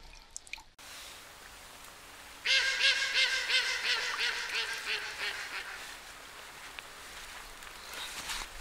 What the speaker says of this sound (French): Il y a un canard qui se fout de moi.